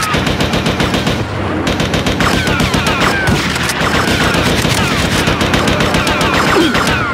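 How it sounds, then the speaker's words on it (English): Rapid automatic gunfire in the video game GTA Vice City Stories, dense continuous bursts of shots filling the whole stretch, loud and close with no pauses. "Yep, I'm gonna shoot you."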